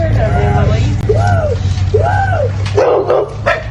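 Dogs in a home yip and bark in rising, whining bursts, three distinct calls followed by a rougher flurry, loud and close over a steady background hum.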